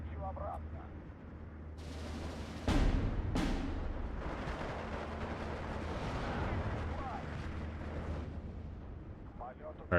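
Bombing strike explosions in Steel Division 2, a couple of sharp booming blasts followed by a long rumbling roar with scattered crackling detonations, loud and close, with a voice talking over it.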